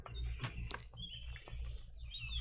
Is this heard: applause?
no